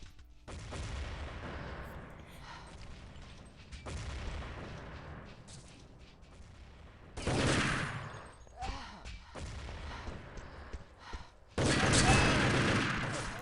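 Gunfire from a competitive first-person shooter match, heard as several bursts of sharp shots with short quiet gaps between them, the loudest volleys coming near the middle and at the end.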